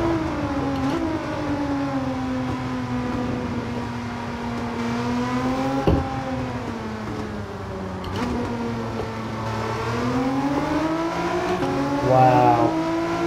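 Race car engine in the Gran Turismo 7 video game holds a steady, continuous drone whose pitch rises and falls with shifting revs through corners, with a voice talking over it throughout.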